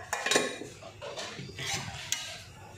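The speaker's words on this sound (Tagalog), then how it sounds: "Dito, magsandok muna ako." A serving spoon scrapes and clinks against a pot while scooping fried food, a few metallic knocks and soft scooping sounds, close by and otherwise quiet.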